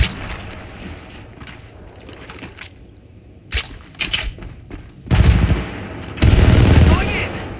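Weapon fire in Apex Legends Mobile: scattered sharp shots early on, then two dense, loud bursts of rapid automatic gunfire near the end, with game effects in between.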